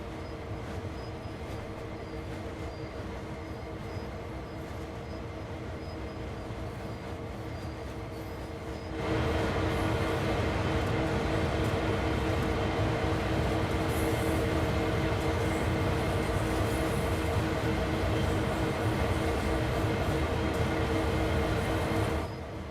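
A locomotive idles in place in Train Sim World 3, a steady mechanical drone that jumps to a louder, fuller rumble partway through and holds there without moving off.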